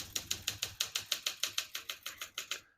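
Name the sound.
typing on a 1965 Olympia SM8 vintage portable typewriter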